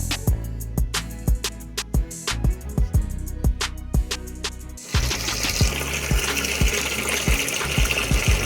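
Water in a washing machine during a test of a newly fitted drain valve, first rhythmic thumping pulses, then a sudden steady gushing rush of water filling the drum, close and continuous.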